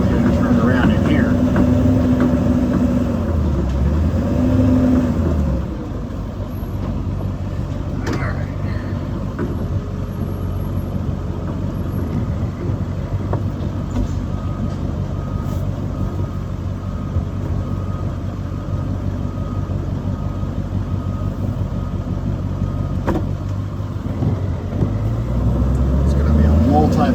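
A Stratolander E450 4x4 motorhome with a Powerstroke engine rumbles low and steady as it makes a slow multi-point turn, the engine note shifting slightly with the maneuvers while a voice talks at times.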